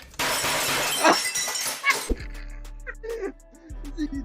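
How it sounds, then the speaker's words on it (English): Glass shatters loudly in a burst of breaking, crashing debris lasting about two seconds. Quieter clinks and scattered bumps follow over a low hum. "It's like he had some glass ready to break just because he's that angry."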